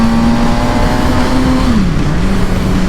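A Suzuki GSX-R750 Gixxer motorcycle engine runs steadily in first gear while riding, its loud continuous drone rising slightly then dropping in pitch near the end, close to the microphone with no voices.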